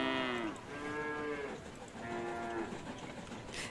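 Cows mooing in the train-building video game Station to Station, two long drawn-out moos with a short gap between them, clear and fairly loud.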